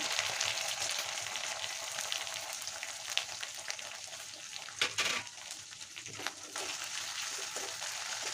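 Garlic, ginger paste and cumin paste fry in a pan for an eel curry, giving a steady, close sizzle with a few louder spits and crackles throughout and no talking.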